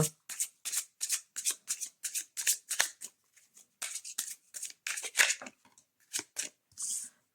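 Oracle cards are shuffled for a draw in a quick, crisp run of close riffling and flicking bursts, each lasting a fraction of a second, with brief pauses between them.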